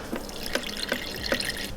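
Water poured from a tap into a bowl of cream of rice, a trickling stream with about four distinct drip-like splashes spaced evenly, close and fairly quiet.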